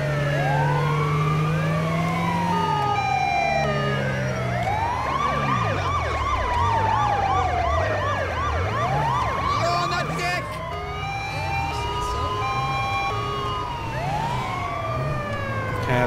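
A wailing ambulance siren in GTA V sweeps up and down continuously and loudly, with layered overlapping siren tones and a low engine rumble underneath.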